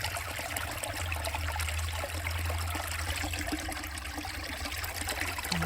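Water from a Uwharrie creek in North Carolina flowing through a gold prospecting sluice, a steady soft trickling and burbling with a low rumble underneath, continuous and fairly faint with no voices.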